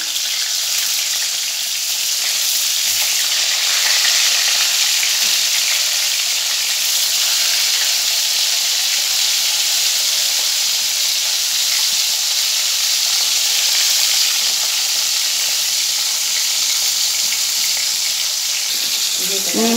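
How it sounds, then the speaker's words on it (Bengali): Neem leaves fry in hot oil with a steady, bright sizzle that holds evenly at close range for the whole stretch, with no talk over it. "নিম পাতাটা ভাজা হচ্ছে এই যে।"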